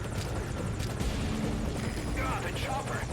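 Enemy helicopter in the video game MGSV: Ground Zeroes, a steady low rotor drone with choppy pulsing, running continuously beneath game noise and a voice talking.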